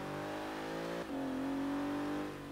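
A car engine in Forza Horizon 3 revs hard and steadily, one close, loud, continuous drone that dips briefly as the gear shifts, then climbs again in pitch.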